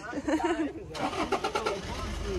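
A rented car starts up and pulls away in northern Madagascar, the engine turning over and then rumbling steadily as it drives off, with voices talking over it.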